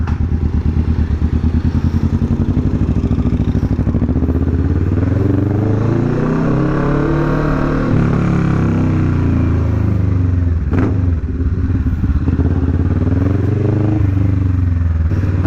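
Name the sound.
Kawasaki Vulcan S motorcycle engine revving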